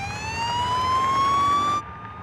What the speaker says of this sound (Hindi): एम्बुलेंस है ये तो।